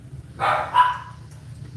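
Dogs barking at a lawn mowing crew, a quick pair of sharp barks close by that fade into a low background rumble.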